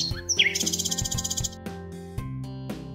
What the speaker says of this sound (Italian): Questo è il pappagallo.